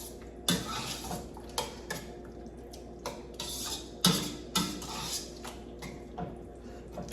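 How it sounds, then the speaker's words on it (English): A utensil stirring sauce into a lasagna mixture, scraping and clinking against the pot or bowl in irregular knocks, with a couple of sharper louder clanks, close and fairly quiet with no talk. "Alright, so you just stir it in."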